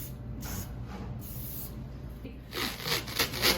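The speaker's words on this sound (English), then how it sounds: "So go ahead and spray." Tough skin adhesive sprays onto a leg before athletic taping, giving several short hissing bursts close up, the last few quicker and louder.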